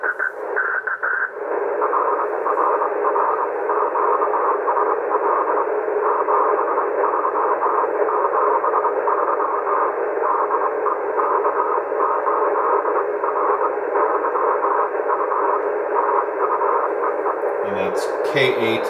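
A 2-meter amateur radio signal reflected off the aurora arrives as a loud, steady, hissing and buzzing tone that fills the whole stretch, breaking up briefly near the end.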